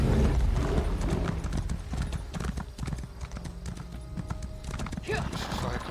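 Steady clip-clop of a horse's hooves galloping in the video game Elder Scrolls Online, a fast, even rhythm running the whole way under someone speaking.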